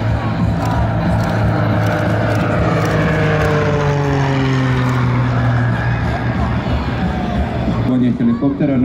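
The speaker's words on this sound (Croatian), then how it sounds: "Helikopteri dolaze u jednoj od taktičkih formacija, u ovom slučaju nisko-visoko" Military helicopters fly low in tactical formation at a Croatian air force base air show. Their rotors and turbines make a loud, steady drone with slowly shifting pitch that holds throughout.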